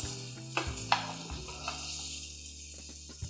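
Chicken francese frying in a pan, a soft steady sizzle with a couple of brief utensil clinks and scrapes, fairly quiet and close, with a low background hum.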